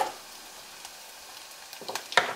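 Homegrown spring onions thrown into a frying pan, a low steady sizzle broken by a few sharper crackles and clatters toward the end, no talking.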